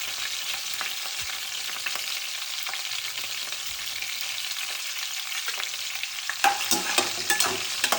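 Curry leaves sizzle in a pan as leafy greens are stirred, giving a steady close frying hiss with scraping stir strokes that grow louder near the end.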